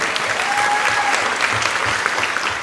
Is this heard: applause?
yes